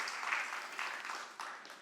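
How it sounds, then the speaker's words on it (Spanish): Church congregation applauding at a Sunday worship service, a short burst of clapping with uneven swells and a sharper surge near the end, a little distant and faint. "Dale el aplauso al Rey."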